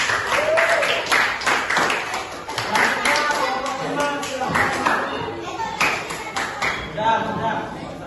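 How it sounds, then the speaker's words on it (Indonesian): Classroom applause for a student group after their presentation during a practice teaching session, a burst of claps from many students with chatter and voices layered over the clapping. "Tepuk tangan buat kelompok 4 dulu."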